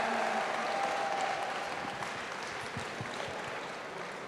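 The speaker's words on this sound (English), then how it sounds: "Let's give them a round of applause." An outdoor crowd at a Terry Fox charity walk and run applauds the emcees, a dense, continuous round of clapping that tapers slightly toward the end.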